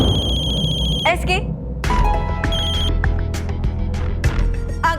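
A telephone rings with bright, repeating electronic trills, loud and close, over a steady background bed of sound.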